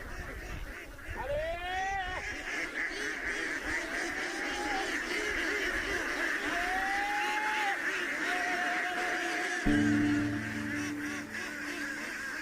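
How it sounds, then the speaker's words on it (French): A flock of farm ducks in rice paddies quacks and honks over a busy, dense background of bird calls, with several rising calls standing out and a deeper burst of honking joining near the end. "Chaque matin, le riziculteur Xiao Tinliang dirige une armée de canards vers ses rizières"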